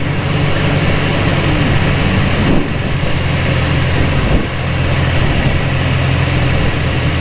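Piper Cub light airplane engine droning steadily on landing approach in a headwind, a continuous loud cabin-level hum with a low throbbing drone and brief dips in power.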